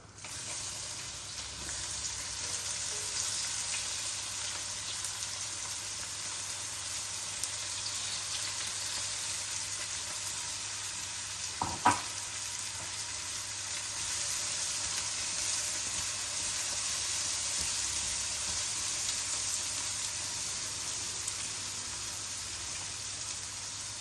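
Thinly sliced onion pieces fry in a pan of hot oil with cumin and asafoetida for gongura curry, giving a steady, even sizzling hiss throughout, with one brief clatter near the middle and no voices.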